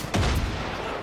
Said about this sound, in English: Watch out, I'm lobbing a grenade.